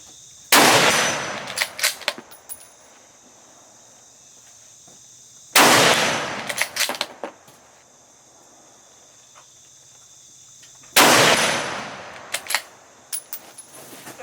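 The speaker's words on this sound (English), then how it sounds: "I'm gonna shoot 3 rounds at a high speed." Rifle shots using Norma Precision ammunition at an outdoor range, three loud, sharp reports spaced about five seconds apart, each followed by a brief echoing tail and faint clicks, with no talking.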